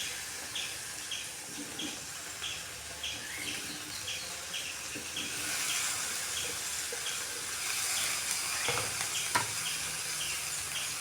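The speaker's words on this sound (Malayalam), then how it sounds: "ഇനി ഇതിലേക്ക് നമുക്ക് അരിഞ്ഞു വെച്ച ഗോവയ്ക്കയുടെ ഇട്ട് കൊടുക്കാം അപ്പോൾ തീ കുറച്ച് വെച്ചിട്ട് ഇട്ട് കൊടുക്കുക" Chopped ivy gourd (kovakka) goes into a hot pan over low heat, and a steady close sizzling hiss swells louder about halfway through, with faint chirps in the background and no talking.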